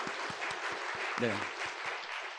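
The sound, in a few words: church congregation applause of blessing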